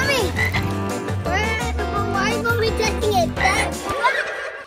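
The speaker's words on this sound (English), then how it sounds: "It's a frog! A frog!" A frog croaking near and loud in a repeated series of rasping calls, heard outdoors around a backyard swimming pool taken over by ducks.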